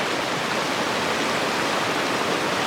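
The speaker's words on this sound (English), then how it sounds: "Made it to Tyndall Creek." Steady, full rushing of Tyndall Creek flowing over rocks on a mountain trail, loud and close, with no other sounds.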